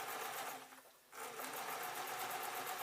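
A sewing machine stitching fabric for a desk tidy whirs steadily with a fast, even needle rhythm, briefly slowing to a near stop before resuming at full pace, close and without speech.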